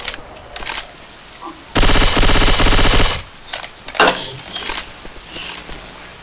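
Zombie video game firefight: a loud, sustained burst of rapid automatic gunfire dominates the middle stretch, with scattered shorter shots and bangs before and after.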